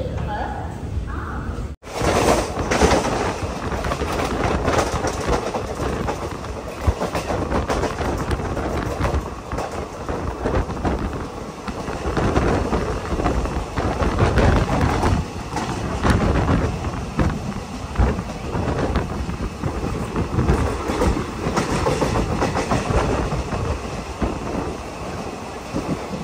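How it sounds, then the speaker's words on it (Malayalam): A Guruvayur–Ernakulam passenger train pulls into Edappally railway station with a continuous heavy rumble that swells and eases over nearly half a minute, voices mixed in. "എടപ്പള്ളി റെയിൽവേ സ്റ്റേഷനിലേക്ക് ഇതാ ട്രെയിൻ എത്തിക്കൊണ്ടിരിക്കുകയാണ്"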